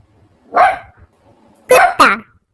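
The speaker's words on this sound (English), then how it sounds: "Dog means कुत्ता." A dog barks three times, sharp and close: one bark, a pause, then two quick barks in succession, loud and clear against near silence.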